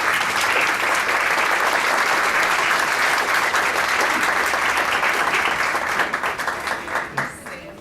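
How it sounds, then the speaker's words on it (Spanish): Audience applause for a panel at a legal conference, steady loud clapping from a large hall that fades in the last second as a voice starts. "le damos un aplauso a la mesa"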